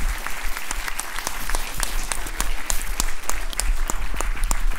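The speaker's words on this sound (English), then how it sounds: "Let's give John one last round of applause" Audience applause closing a university atmospheric sciences lecture by Dr. Jonathan Foley, a steady, dense clapping from a room of listeners that holds at an even level throughout.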